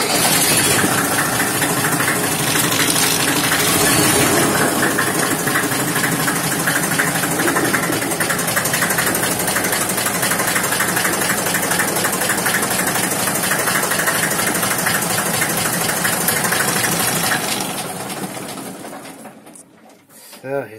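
Deutz D40 tractor diesel engine running steadily at idle, a loud, dense chugging drone that holds constant for about seventeen seconds before dying away near the end.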